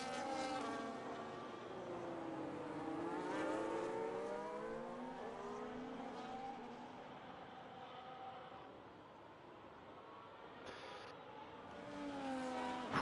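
Ferrari and Red Bull race cars in a racing video game set at a Mexico round, their engines whining steadily with shifting pitch sweeps throughout, moderately loud and continuous, with a rising engine note near the end.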